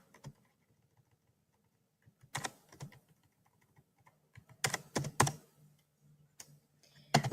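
Computer keyboard typing on a Windows machine comes in sparse short bursts of clicks separated by silent gaps, close and crisp, with no talking.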